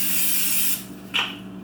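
Cooking oil spray hitting a preheated hot skillet: a loud, steady hiss lasting under a second that cuts off abruptly, followed by a short, fainter burst.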